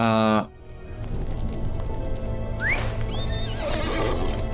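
A horse steed in the online game LOTRO, near Mirkwood, lets out a sharp whinny at the start, followed by steady clip-clopping hooves over a constant game ambience with some tonal effects.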